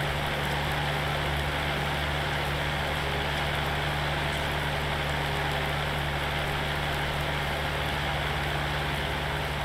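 Rain falls in the farming video game Farming Simulator 19, a steady, dense hiss with a low engine-like hum beneath, continuous and even at moderate loudness.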